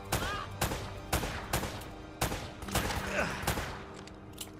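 Gunfire in the video game Uncharted: Drake's Fortune: a run of loud, sharp shots fired in irregular bursts, each with a short decaying tail, layered over game background sound.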